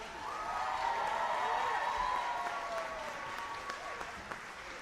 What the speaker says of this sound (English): Can we get a big round of applause from the audience for him?